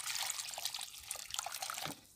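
Water is poured from close by onto the soil of a potted fig plant, a soft, steady trickle and splash that soaks in and fades near the end.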